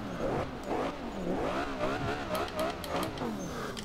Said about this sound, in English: Maybe it sounds a little bit more aggressive, but those turbos are very loud.